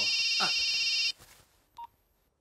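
A telephone rings in a steady electronic tone that cuts off abruptly after about a second, followed by a brief voice and a short beep, all fairly close.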